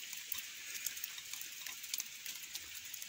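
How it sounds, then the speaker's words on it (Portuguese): Rain falls steadily on a small shelter roof in a farm field in Bahia, a dense even hiss with scattered sharper drops, heard alone and fairly close. "Mas a chuva é uma benção de Deus, né?"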